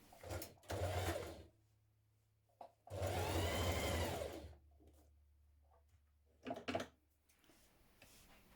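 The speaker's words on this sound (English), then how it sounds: "you can stitch all the way around the front" A sewing machine stitches a camisole in three separate runs: two longer whirring bursts and a short final one, with quiet pauses between them.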